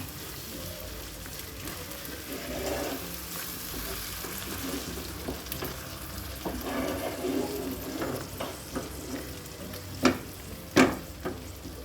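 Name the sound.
stirring okra masala mixed with yogurt in a pan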